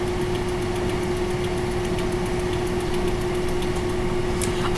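A car engine idles in the Roblox game Piggy, a steady, even drone with a constant low hum and no change in pitch. It runs unbroken until a sudden loud burst at the very end.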